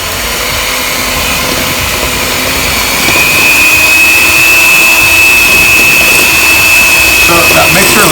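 An old Sunbeam electric mixer creams butter and sugar with a loud, steady motor whine that grows slightly louder partway through, close up and continuous, with a voice talking under it.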